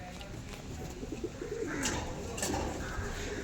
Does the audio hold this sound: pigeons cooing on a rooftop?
yes